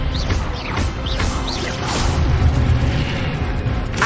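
Spell effects from combat in Hogwarts Legacy, with dense magical whooshes, bursts and crashing impacts that repeat in quick succession over a constant rumbling game mix.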